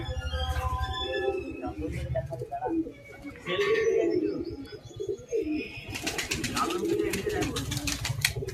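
Pigeons coo in a loft, low soft repeated burbling calls mixed with chirps and brief wing flutters, close and continuous, with people talking nearby.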